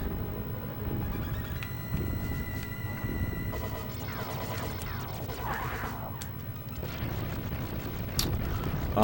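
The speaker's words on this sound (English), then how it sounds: "Something to note is the crush weapon, the explosions that happen at the end there." Crashing explosions from the crush weapon in Contra 3 on hard mode, a dense run of booms and smashes over busy game music and effects, loud and continuous through the stretch.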